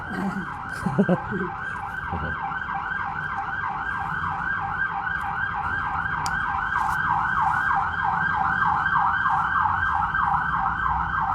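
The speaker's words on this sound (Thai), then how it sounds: "ของจริงนะ ที่รถพยาบาลเขากำลังวิ่ง" An ambulance siren wails loudly and continuously for about eleven seconds, its rapid warbling cycle steady and slowly growing stronger as the vehicle passes, with a few brief sounds near the start.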